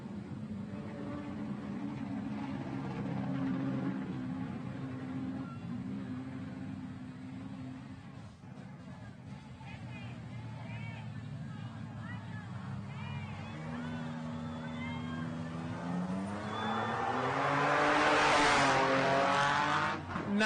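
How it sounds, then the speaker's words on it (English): Brand-new twin-turbo Honda V6 race truck, number 9, at the Baja 1000 off-road race, a loud sustained engine roar that swells and rises in pitch near the end, with a commentator talking over it. "Nothing like the sound of a twin-turbo Honda V6, brand new truck."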